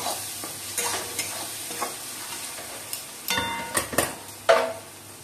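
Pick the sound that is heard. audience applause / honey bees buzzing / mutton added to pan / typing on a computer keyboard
mutton added to pan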